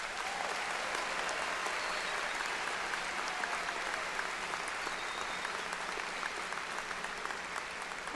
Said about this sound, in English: Please acknowledge our honorary degree recipient with a warm round of applause.